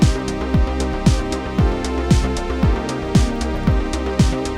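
Bassline held on one note with octaves filled in, a steady pumping pattern of punchy low notes in an even rhythm under a dense electronic backing, loud and continuous.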